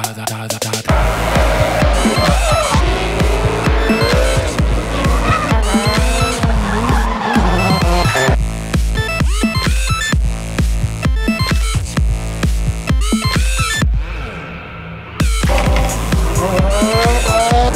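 Scion Racing RSR drift car at Las Vegas Speedway, loud tires squealing and skidding almost continuously over a roaring, revving engine, with one short drop in level before the screeching resumes.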